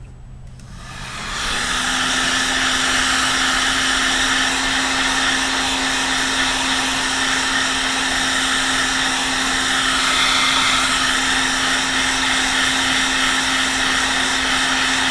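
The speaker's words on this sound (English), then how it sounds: "Now you want to keep this heat gun in a circular motion." A heat gun blows hot air over a laptop motherboard during a reflow, a steady loud whooshing roar that starts after a second and holds a constant droning tone throughout, with no talking.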